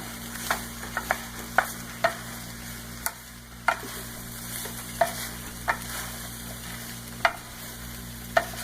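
Stir fry sizzles in a pan on the stove as a utensil stirs and coats it, with a dozen or so sharp scraping knocks at irregular intervals over a steady low hum and faint sizzle.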